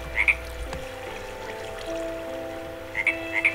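A frog croaks in the video game Hexxit, a pair of short croaks at the start and a few more near the end, fairly clear over a quiet watery ambience with no talk.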